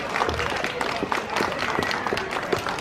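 Crowd applause at an outdoor kids' fishing event, steady scattered clapping from a modest audience with cheers mixed in, fairly close and continuous.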